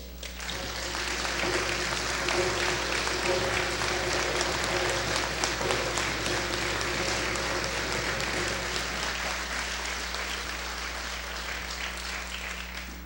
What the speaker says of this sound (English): would you please stand so we can give you a warm round of applause?